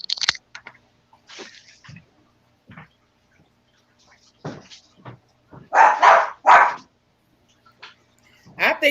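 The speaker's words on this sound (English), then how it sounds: "Every time we get on here, somebody dog bark." Dogs bark in scattered bursts, some short sharp yips and a few louder, closer barks in quick pairs, separated by quiet gaps with faint voices in between.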